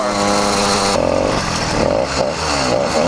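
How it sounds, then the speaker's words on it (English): A motorized bicycle's small YD100 two-stroke engine revs up and down loudly and close by, with a buzzy, rasping exhaust note. "Is that a better sounding exhaust for you?"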